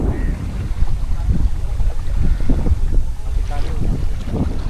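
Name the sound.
boat leaving the island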